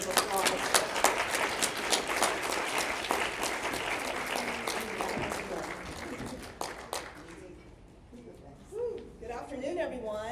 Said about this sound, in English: let's give her a big hand of applause.